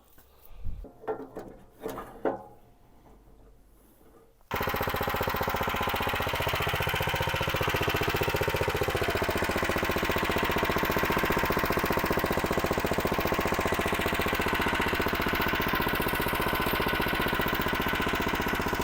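A Husqvarna rotary tiller engine starts up after some brief knocking and then runs steadily and loudly, a continuous close mechanical drone with no talk over it.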